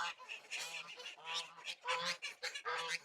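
Several geese honk loudly and close by on a homestead, with repeated overlapping calls in quick bursts throughout.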